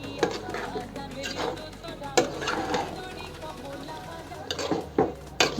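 Mixed winter vegetables with coriander leaves are stirred in a pan, producing soft scraping and clinking strokes of a utensil against the pan, with light sizzling and a voice speaking over it.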